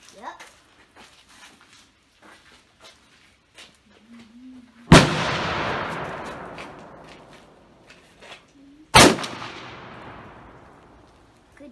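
A Mossberg 935 shotgun with full choke fires 3-inch Winchester double aught buckshot outdoors: two loud, close blasts several seconds apart, each ringing out in a long decaying echo, with a dog whimpering faintly in between.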